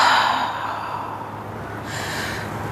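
A deep, breathy exhale during a guided stretch, close and soft, fading away without any talking over it.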